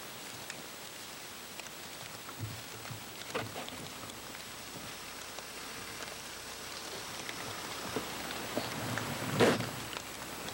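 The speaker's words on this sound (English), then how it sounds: "during a steady freezing rain" Steady freezing rain falls outdoors as a soft, continuous patter of drops, quiet and even, with a few louder rustles and taps near the end.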